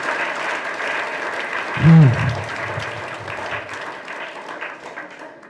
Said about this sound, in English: Give a good applause for good time